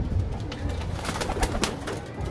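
Homing pigeons at a loft coo in soft, repeated throaty bursts, close by, mixed with light fluttering and scuffing sounds and no speech.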